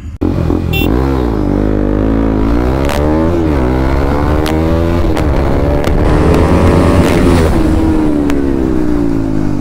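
A KTM RC390 and an Aprilia RS457 motorcycle race, their engines roaring loud and close, rising in pitch through repeated gear shifts with sharp revs between changes.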